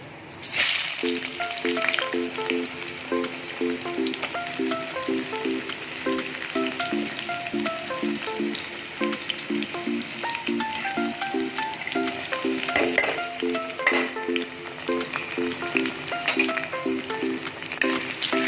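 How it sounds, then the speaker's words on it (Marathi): Chopped onion and garlic sizzle and crackle steadily in hot oil in a kadhai on a gas stove, a close, continuous frying hiss with occasional stirring scrapes, no talking. "गॅसवर कढई ठेवली आहे तेलही तापलं आहे तीन पदी आपण तेल टाकून घेतलं आहे कांदा टाकून घेऊया"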